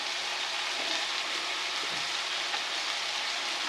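Onions frying in butter while meat is braised, giving a steady, soft broadband sizzle that stays even and continuous from start to finish with no talking.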